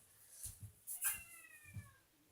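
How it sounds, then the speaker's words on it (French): A pet cat meows indoors several times, with short plaintive calls spread across a couple of seconds. The clearest and loudest cry comes in the middle, and every call is fairly close and alone, with no talking. "Comme ça, elle arrête pas de miauler."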